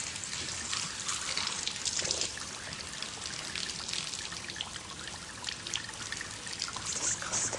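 Water runs steadily from a tap during washing, a constant splashing trickle with no pauses and no one speaking.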